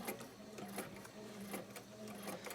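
Bernina Artista 730 sewing machine stitching in reverse to secure a seam, a quiet, steady mechanical whir with faint rhythmic ticks, close and alone.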